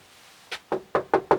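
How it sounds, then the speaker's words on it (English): Five firm knocks on a door, close and distinct, the first lighter and the rest in a quick, steady rhythm. "Knock on the door, Frank."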